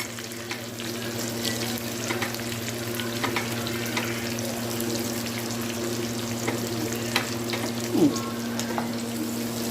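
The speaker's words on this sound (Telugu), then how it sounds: "ఉల్లిపాయలు కూడా ఇందులో వేసి జస్ట్ ఇలా ఫ్రై చేద్దాం" Capsicum and onion pieces fry in a wok of oil for a starter, giving a steady close sizzle with light stirring clatter and a brief metallic scrape near the end over a faint background hum.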